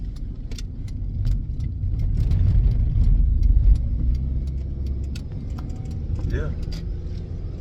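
A 1998 Honda car with VTEC shifting from third to fourth gear, the engine note swelling and dipping as it changes gear on the road, with a steady interior rumble underneath and someone speaking over it.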